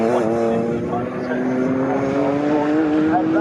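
Race cars on the Snetterton circuit in a CSCC Liqui Moly Slicks Series race, a steady rising engine drone passing at moderate distance with a commentator talking over it.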